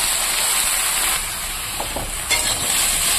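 Bottle gourd curry with lentil fritters sizzles and is stirred in a pan, a steady close hiss of frying with a few soft scraping strokes.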